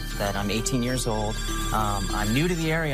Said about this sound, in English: Okay, now the phone is ringing right now because of just this ad